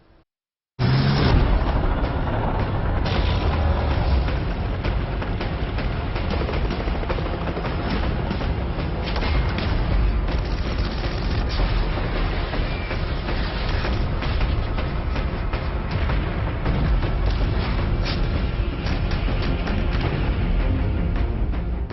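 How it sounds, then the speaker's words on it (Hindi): A rocket launcher fires a relentless barrage of rockets in a military display, a dense, continuous roar of blasts and rumble that stays loud and sustained for about twenty seconds after a brief silent start. "रॉकेट लॉन्चर से ताबड़तोड़ बरसते रॉकेट"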